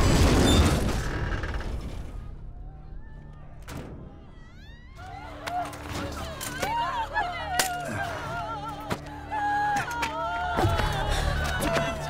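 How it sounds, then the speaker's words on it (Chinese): Rocket shell explosion in the Korean action film Steel Rain: a heavy boom and crash opens, then debris clinks, glass breaks and scattered clattering impacts ring out amid a lingering rumble, with faint tonal sounds beneath. "砰的一声爆炸过后"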